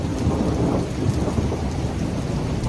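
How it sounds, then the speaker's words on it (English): Thunder rumbles low and heavy during a severe thunderstorm with torrential rain, the deep roll blending into a constant loud hiss of downpour on surfaces, no voices. "super dark gray clouds here, torrential rainfall, first severe thunderstorm of the season for us, and a bright flash, and maybe a loud crash"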